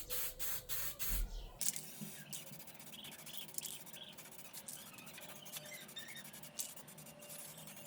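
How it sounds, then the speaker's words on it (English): Bursts of aerosol spray lacquer hiss onto the voids of a walnut slab table in short repeated blasts at first, then lighter intermittent spraying over a steady background hiss, close by. "spray lacquer for the voids"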